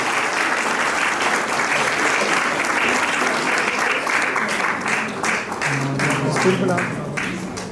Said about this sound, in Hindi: जोर से तालियां बजाइए इन दोनों बच्चों के लिए।